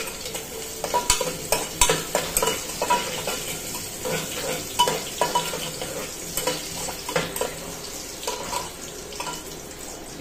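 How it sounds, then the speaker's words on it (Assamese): Chopped onions and garlic fry in a hot pan, a spoon scraping and stirring in irregular bursts over a steady sizzle, close by with no talking. "পিয়াজ আৰু নহৰুখিনি অকণমান ভাজি লম"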